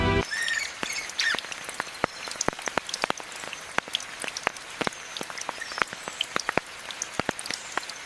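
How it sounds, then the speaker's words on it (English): Persistent drizzle falls on a rainforest canopy, scattered drops striking leaves in an irregular patter, fairly close and clear over a soft, steady background wash. "oblivious to the persistent drizzle that waters the forest canopy above"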